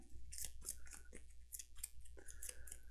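Cards from the Gloomhaven board game being shuffled by hand, a run of crisp riffling, snapping bursts repeating close up with no talk.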